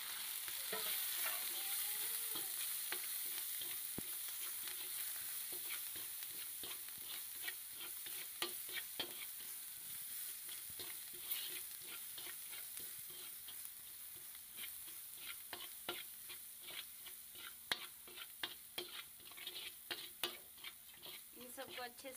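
Spices with turmeric, chilli and salt roasting for a raw mango dish, a soft continuous sizzle with a rapid run of light spoon scrapes and clicks against the pan, fairly quiet and steady throughout.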